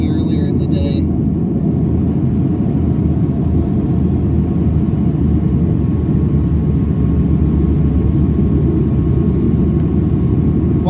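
Grant Aviation commuter airplane landing at Atka on a foggy day, heard as a loud, steady low rumble of engine and prop noise throughout, with a brief higher whine near the start.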